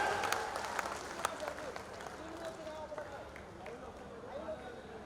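A rally crowd claps and cheers loudly for a countdown, a dense, steady patter of hands with sharp bursts near the start, continuing under voices and background noise.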